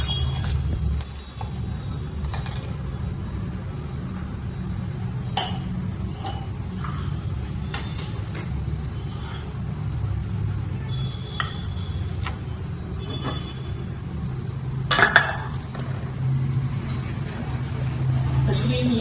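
Sago being stirred into milk in a pot for kheer, with faint scattered clinks and ticks of a spoon against the pot over a steady low kitchen rumble.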